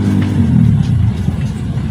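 A newly installed engine runs steadily, its low mid-range hum and light clatter close and loud, with no talk over it.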